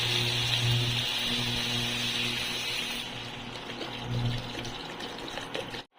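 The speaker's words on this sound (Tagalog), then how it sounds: "Lagyan mo na ng tubig." Steady rush of water pouring into a cooking pot of pork bones for sinigang soup, loud and continuous, easing slightly partway through before cutting off abruptly.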